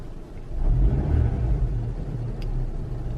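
A car engine rumbles steadily up close as it accelerates, the low drone swelling slightly and holding without a clear high rev peak, with no talking.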